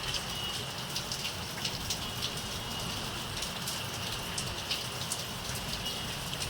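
Steady rain falls continuously, a dense even patter on surfaces with scattered louder drops and no voices.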